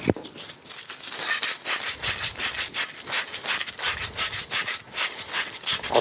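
Brass pipe scrubbed clean before tin soldering, a steady back-and-forth abrasive rubbing with rhythmic strokes, close and fairly loud, no talking.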